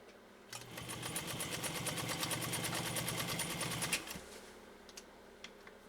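A repaired heirloom PFAFF 230 sewing machine stitching through heavy leather, a steady fast rhythmic mechanical chatter running for about three and a half seconds before stopping with a clunk, fairly close and quiet overall.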